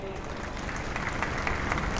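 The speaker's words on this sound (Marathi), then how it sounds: "बघा कशा टाळ्या वाजतात" A political rally crowd claps through an outdoor speech, a broad, fairly distant wash of applause with a faint rumbling undertone and voices mixed in.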